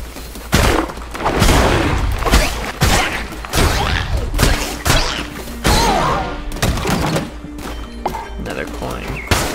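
Rocks are smashed in the video game Cult of the Lamb: a rapid series of sharp, punchy impacts and thuds, some in quick clusters, stands out over a quieter game background.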